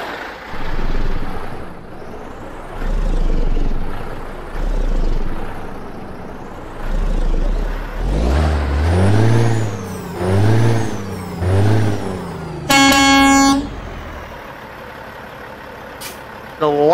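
A heavy diesel truck with a Caterpillar engine in American Truck Simulator revs up and down in repeated surges, then settles, followed by a sharp hiss of air brakes near the end.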